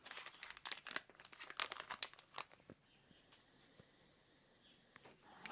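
A sealed package of smoked beef brisket from the supermarket is cut open, giving a quiet run of crinkling plastic and tearing rustles in close bursts, then fading to soft scattered handling noises.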